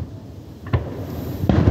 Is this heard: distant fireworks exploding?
yes